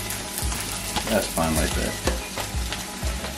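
Pork browns in a hot pan with a loud, constant sizzle and crackle, while irregular scrapes and stirring knocks sound near and a voice talks briefly over it.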